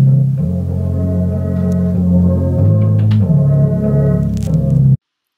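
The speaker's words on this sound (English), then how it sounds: "Greg showed me how he takes a beat that sounds like this" A steady electronic music loop with deep sustained bass tones and layered harmonic synths, playing alone at a full, even level before stopping abruptly.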